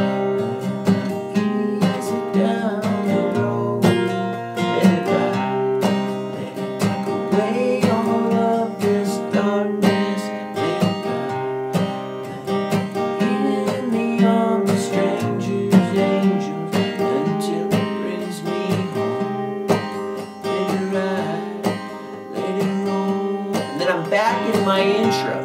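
Acoustic guitar plays the chorus of a song: strummed chords in a steady rhythm, close and full, continuing throughout with no talking.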